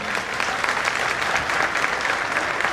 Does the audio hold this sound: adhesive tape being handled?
no